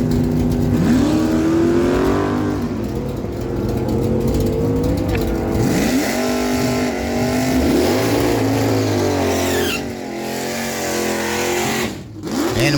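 At an NHRA drag strip, a 1991 Ford Mustang and a 1973 Dodge Dart Sport roar off the line, engines loud and near, climbing through revs and gear changes, then fading as they race away down the track.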